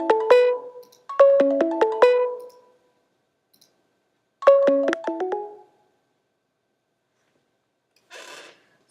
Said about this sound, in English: I'll click on the video call. You'll hear it start ringing.